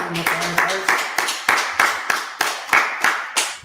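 Group applause at the close of a class: a steady run of sharp, evenly spaced claps, fairly close and loud, about a dozen strong hits over a few seconds with a warm room wash between them.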